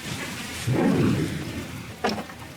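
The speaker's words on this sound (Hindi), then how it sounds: "बारिश लगातार पूरे 20 घंटों तक बरसती रही।" Heavy rain pours steadily during a raft survival stay at sea, a constant dense hiss with a low rumbling swell and a brief sharp crack near the end.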